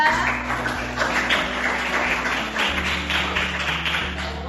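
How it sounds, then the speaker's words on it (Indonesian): Children in a classroom clap together for a small group of classmates, a steady, moderately loud patter of many small hands with a low hum running underneath and no talking. "Silakan tepuk tangan untuk kelompok 3."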